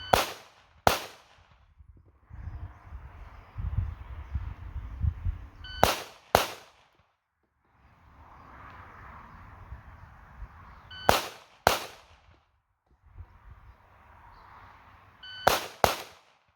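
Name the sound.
pistol shots fired from a 2011 handgun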